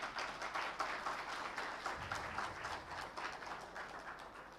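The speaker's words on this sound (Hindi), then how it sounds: "एक बार जोरदार तालियां।" Seminar audience in a hotel hall applauding: steady, dense clapping from many hands, faint and somewhat distant, sustained throughout.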